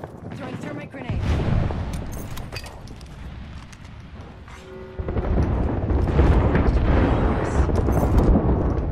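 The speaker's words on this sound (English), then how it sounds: "Throwing thermite grenade." Game combat with a thermite grenade thrown amid gunfire in RANK, a loud burst of explosive noise surging up after a quieter stretch and sustaining as a dense roar, with scattered crackle and shots throughout.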